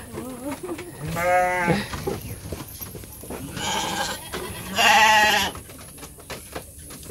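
Goats being fed at a rural family home bleat three times, each a loud wavering cry a second or so long with quiet gaps between, faint background sounds underneath.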